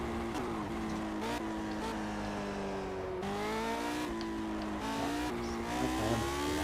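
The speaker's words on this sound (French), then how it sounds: "La puissance de cette voiture, la accélération." A Lotus 78 race car in a video game accelerates hard around the Nürburgring. Its engine whines loudly and climbs through the gears in repeated rising sweeps, with brief drops at each shift.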